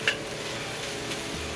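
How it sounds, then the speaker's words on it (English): Cooked rice sizzles quietly in a hot pan on a Weber kettle grill, a soft continuous crackle with a faint tap near the start. "Get it frying. Can you hear it? Frying? It's frying."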